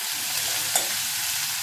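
Foxtail millet pulav ingredients with salt and turmeric are stirred in a pan, a steady close sizzle and hiss with one brief scrape of the spoon partway through.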